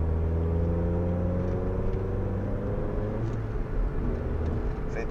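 A 2005 Chevrolet Astra 2.0 engine revs in third gear climbing a hill, a steady loud drone with its pitch rising gradually, heard from inside the car with no voices.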